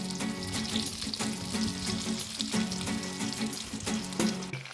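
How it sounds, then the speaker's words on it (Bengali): Jujube plums for pickle frying in a pan over medium-high gas flame while being stirred continuously, a steady bubbling sizzle with repeated scraping strokes throughout, fairly loud and close with no talking. "এই সময় গ্যাসের ফ্লেমটা মিডিয়াম টু হাই রেখে অনবরত নাড়তে থাকতে হবে।"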